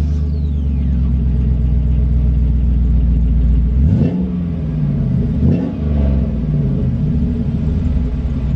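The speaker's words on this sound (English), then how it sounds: "I'm gonna give you guys a start up with the rusted muffler so you guys can see what that sounds" Cheap truck engine idling and revving with a rusted, holed muffler, a loud rough rumble with two quick blips of the throttle midway, heard close and alone.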